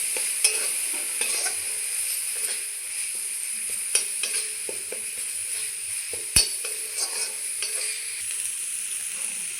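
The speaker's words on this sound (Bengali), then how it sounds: "আবারও সব মশলা একসঙ্গে মিলিয়ে নেব।" Spices being stirred together in a pan with oil, for a papaya and potato curry: steady soft sizzling under scraping, with a sharp spoon clink near the middle and scattered lighter taps against the pan throughout.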